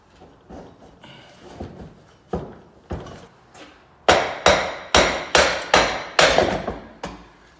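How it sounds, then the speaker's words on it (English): A series of sharp metallic hammer blows driving out a drive shaft on a Hummer H1 with a Duramax diesel conversion, softer and spaced at first, then louder and faster in a steady run of about a dozen strikes. "Had to hammer it out a little bit."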